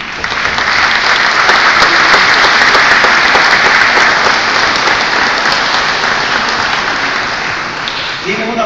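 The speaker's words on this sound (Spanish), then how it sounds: "Me refiero a Carlos Calices, para quien pido un fuerte aplauso." Warm applause from a conference audience in Peru fills the room, a loud, dense patter of many hands clapping steadily before easing slightly at the end.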